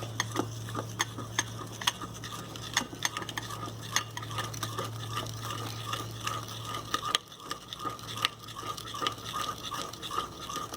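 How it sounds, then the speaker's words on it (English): A spoon works salt into a quick sweet and spicy chutney, repeated scraping and tapping strokes against a bowl in an uneven rhythm, close but soft, over a low steady hum. "we'll add some salt and just have to mix it"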